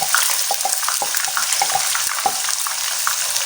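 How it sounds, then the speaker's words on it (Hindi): Water boiling in a pot on the stove while making chicken biryani, a steady hiss with quick bubbling pops and gurgles throughout, close and alone. "तो ये पानी देखें अच्छे से उबल गया है"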